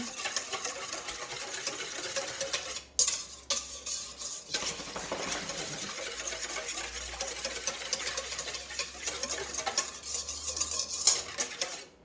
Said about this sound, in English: you're going to whisk all the ingredients together